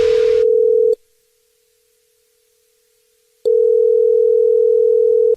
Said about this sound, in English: It's another Jubal phone prank.